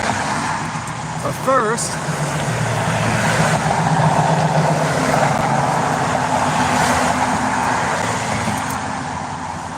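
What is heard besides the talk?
road traffic passing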